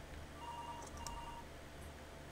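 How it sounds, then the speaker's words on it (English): A telephone in the horror video game Balavour rings with faint electronic tones that repeat a few times. The rings sit quietly over a low ambient hum with no talking. "Now the phone's ringing?"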